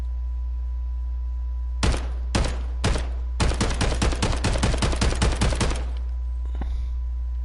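Gunfire from a weapon in a PS4 video game starts with three separate shots, then a rapid stream of about a dozen more in quick succession, loud and crisp over a steady low hum.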